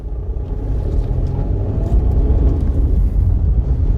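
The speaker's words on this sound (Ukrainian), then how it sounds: "Зараз ми перевіримо цей автомобіль е, в динаміки." A car engine hums in a steady low rumble on a test drive, heard from inside the cabin as a continuous close drone without speech.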